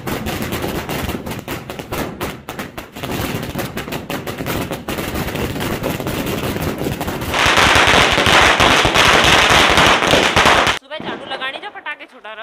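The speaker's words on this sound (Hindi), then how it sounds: "भाई जब लड़ी जलने वाली है" A string of firecrackers set off during Diwali crackles in a dense, rapid barrage of sharp pops, growing into an even louder continuous roar before cutting off abruptly, with people talking and shouting over it.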